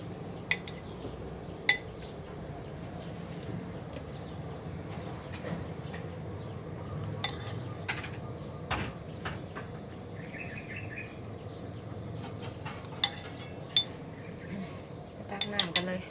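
Rice noodle soup is ladled into bowls for serving, with scattered light clinks and taps of utensils against dishes over a quiet outdoor background, and a little talk nearby.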